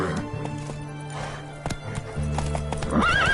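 Roach, the horse in The Witcher 3 on Death March difficulty, gallops with steady clip-clop hoofbeats over a low game music bed, then gives a loud whinny near the end.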